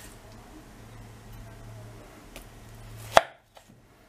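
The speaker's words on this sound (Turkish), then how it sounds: "Patatesleri bir parmak kalınlığında doğrayacağız," A single sharp knife chop on a cutting board, slicing unpeeled potatoes into finger-thick pieces for a baked minced-meat potato dish, rings out clearly over a quiet, low background hum.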